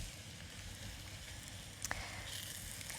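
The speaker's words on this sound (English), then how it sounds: "So they're a nice sizzle." Sliced button mushrooms sizzle in coconut oil in a pan, a soft continuous hiss with a couple of tiny pops, fairly quiet and without talk.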